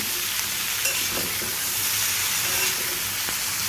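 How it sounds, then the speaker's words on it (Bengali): Salted sliced pointed gourd (potol) sizzles steadily in a hot pan while being stirred, with a continuous close frying hiss and occasional soft scrapes, no voices. "এখানে ভালো মতো করে এটাকে মিক্স করে নিচ্ছি।"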